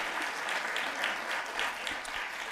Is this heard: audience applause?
yes